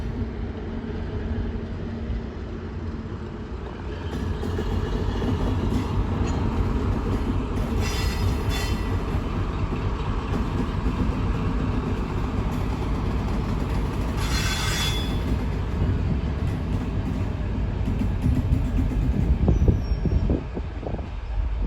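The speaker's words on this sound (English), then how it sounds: "The approaching train is not scheduled to stop at this station." A train runs through a station at Edge Hill without stopping, a steady loud rumble of wheels on rail with squealing and clatter building toward the end. No one speaks.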